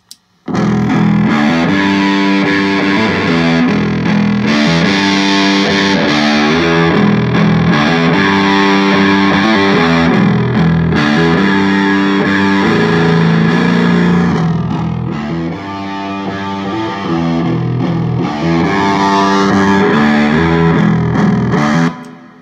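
Distorted electric guitar through a combo amp feeding two 12-inch external speakers, dense sustained chords with a heavy low end played continuously, loud and close with no talking.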